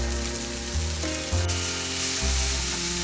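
Boiled noodles for veg chowmein stir-frying in a pan over medium-low heat: a moderate continuous sizzle over a low steady hum, with no talking.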